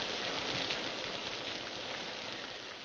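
Steady rain falling, a soft, even hiss of drops spread across the whole clip with no voices and no break in the patter.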